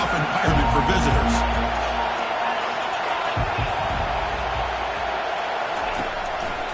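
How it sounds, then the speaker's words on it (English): A stadium crowd roars in a college football video game, a steady broad wash of cheering under continuous commentary. "Listen to the crowd energy here in the early going"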